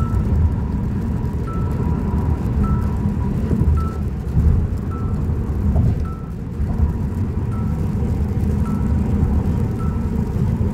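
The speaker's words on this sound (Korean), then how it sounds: "비가 또 마구마구 막 쏟아져요" Heavy sudden rain pours onto a car moving along a highway, making a dense, steady wash of noise over the low road and engine rumble, with faint repeating beeps in the cabin.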